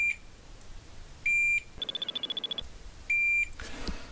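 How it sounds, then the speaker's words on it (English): A continuity tester sounds short electronic beeps while probing pads on a printed circuit board. Two sustained tones are separated by a rapid run of clicks, and the beeps are clear against quiet background hiss. "I should get a beep for each one"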